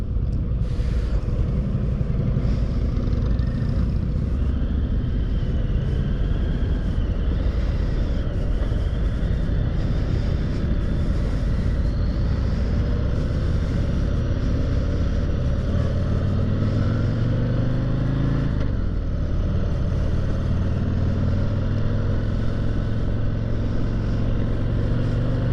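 A 2021 Harley Davidson CVO Street Glide rumbles continuously while being ridden, a steady loud engine drone with wind noise and a brief dip in pitch partway through as the rider shifts or eases off.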